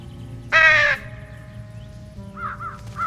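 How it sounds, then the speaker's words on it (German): A crow caws once, loud and close, in the video game Trüberbrook, followed by fainter, farther cawing over a low ambient bed. "Die Vögelein kommen."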